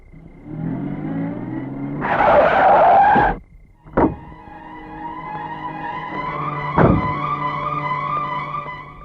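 A car braking hard and skidding to a stop, tyres screeching loudly for over a second, followed by a sharp thump, then the engine idling steadily with another brief knock.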